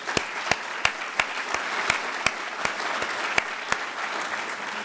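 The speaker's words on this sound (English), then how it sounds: "Please give them a round of applause again." An audience at a college conference applauds continuously for about five seconds. Regular, sharp, louder claps stand out evenly spaced above the steady wash of clapping.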